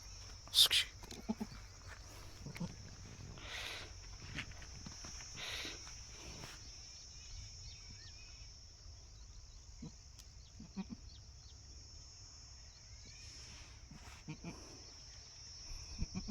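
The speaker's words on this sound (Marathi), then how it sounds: "हा काळा बोकड आहे आणि ही पाट आहे" Goats on a farm, including a black buck, a doe and newborn kids, with several bleats near and farther off over a quiet background and occasional talk.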